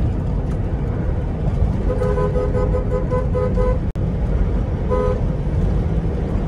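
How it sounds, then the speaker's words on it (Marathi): An Innova overtakes another car on a road to Konkan, heard from inside as a steady engine and road roar with two bursts of repeated horn toots and a sharp click midway. "आर्या गाडीला आपण ओव्हरटेक केलेलं आहे."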